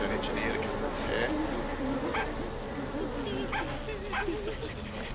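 Bees swarm out of a trap in the strategy game Evil Genius 2, a steady close insect buzz running under a continuous bed of game noise.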